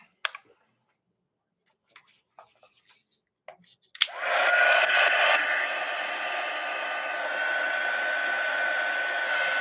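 A hair dryer drying a watercolor painting switches on after a few scattered clicks and taps, then blows loud and steady at close range until the end.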